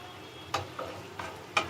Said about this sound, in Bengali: মাংস ফুটছে, আমি মাংসগুলো নেড়ে পাল্টে দিলাম।